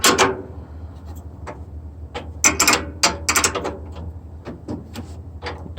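Bolts being snugged down on angle pieces with a hand tool, giving a run of short metallic clicks and ratcheting taps in irregular bursts, close and moderately loud, with no talk.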